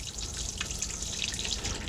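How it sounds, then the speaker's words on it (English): Hot water runs steadily from a mixer tap in a 2019 Bailey Autograph 79-4I caravan, a constant hissing splash with light dripping, fairly quiet and without talk. "I can feel the hot water starting to come through there"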